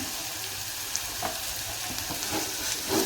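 Green chili, garlic and salt paste frying in a pan, a close, steady sizzle with faint crackles and stirring scrapes throughout.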